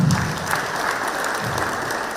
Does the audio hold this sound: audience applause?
yes